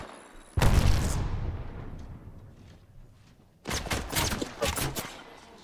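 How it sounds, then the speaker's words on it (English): Gunfire in the Apex Legends video game: a sharp burst that rings out and fades, then after a pause a second cluster of rapid shots, loud and close. "Shots fired and they're hitting me"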